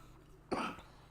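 A single short cough, faint and close, standing out briefly from a quiet room background.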